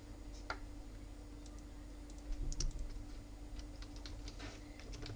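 A computer keyboard is typed on while Python code is written, sparse soft key clicks and taps heard close but quiet, scattered irregularly over a low steady hum.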